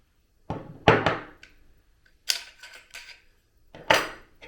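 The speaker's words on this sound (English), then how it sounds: "So unlock the charging handle and then pull the working parts to the rear." Metallic clacks and thunks as the working parts of a t2 .223 straight-pull rifle are unlocked and drawn to the rear: a few sharp close knocks followed by lighter sliding clicks, with no talking.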